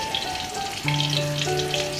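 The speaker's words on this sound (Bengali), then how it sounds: "রাখা পেঁয়াজ আর রসুন কুচুর দিয়ে ভালো করে নাড়াচাড়া করে বাদামি রং করে নেবো" Chopped onion and garlic fry in oil in a kadai, a dense continuous sizzle close up with a faint steady tonal hum underneath and no talking.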